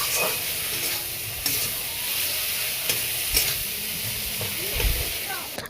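Crushed ginger and garlic sizzle loudly in hot oil in a pan for egg curry, a steady frying hiss punctuated by stirring scrapes and clinks of the spatula, close and continuous throughout.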